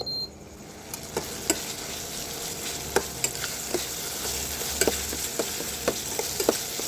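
Masala for a Bengali-style braised meat curry frying in oil in a pan while being stirred: a steady sizzle runs throughout, broken by repeated sharp spoon scrapes and clicks at an uneven pace, with no talking.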